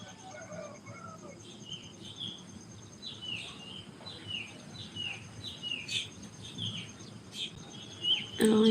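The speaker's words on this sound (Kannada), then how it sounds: "ಪಕ್ಷಿಗಳ ಸೌಂಡ್ ಎಷ್ಟು ಚೆನ್ನಾಗಿ ಕೇಳಿಸ್ತಾ ಇದೆ ಅಲ್ವಾ" Birds chirping outdoors in quick, thin, high calls, some repeated, with a faint insect buzz underneath and a louder close chirp near the end.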